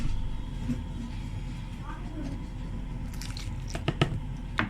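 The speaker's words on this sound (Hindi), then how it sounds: "इसको अच्छी तरह से मिक्स कीजिए।" Potato and gram flour filling for bread pakora being mixed by hand, quiet wet squishing and squelching with a few sharper clicks near the end over a low background hum.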